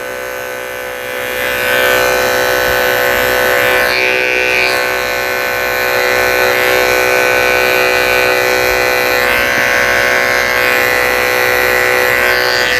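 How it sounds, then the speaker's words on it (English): Electric dog clippers fitted with a 30 blade buzz steadily while shaving the corners of a toy poodle's eyes, a close, continuous whine whose pitch shifts slightly as the blade meets the face. "I'm going to go ahead and use a 30 blade in the corners of his eyes."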